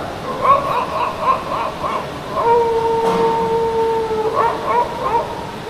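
A voice artist imitates a faraway dog, producing soft, muffled yips and a drawn-out howl, fairly quiet as if heard from a distance.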